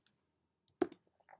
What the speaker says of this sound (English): So I'm typing Gmail